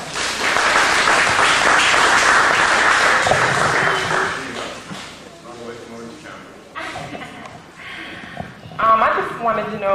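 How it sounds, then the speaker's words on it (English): An audience applauds at a talk, a loud, dense burst of clapping lasting about four seconds before fading out as people begin speaking. "Give her a round of applause."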